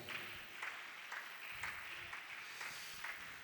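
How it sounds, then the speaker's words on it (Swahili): Congregation clapping in a Lutheran church seminar, steady rhythmic applause with regular accented beats at a moderate, slightly distant level, no talk over it. "Ongeza tena makofi kwa Bwana."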